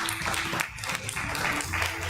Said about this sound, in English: Please give another round of applause to Yamagata Ai no Bushotai and Miyo Ika.